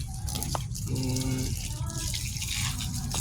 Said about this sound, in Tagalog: Ipitin natin pa lalakas ang agos ng tubig guys.